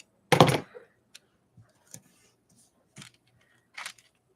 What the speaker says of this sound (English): And then I'll just cut this part away.